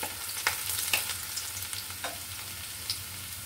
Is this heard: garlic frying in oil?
yes